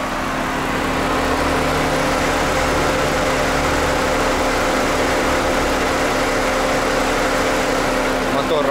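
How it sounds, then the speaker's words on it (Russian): A 2011 Ford Explorer engine idles steadily up close, a continuous low hum with a faint mechanical whine throughout. "Мотор работает отлично."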